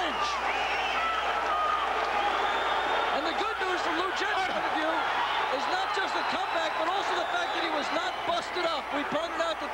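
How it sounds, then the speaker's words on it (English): Boxing crowd at a Nigel Benn WBC super middleweight title fight roaring and cheering wildly without a break, a dense, loud wall of arena noise with a commentator talking over it. "And this crowd is going berserk."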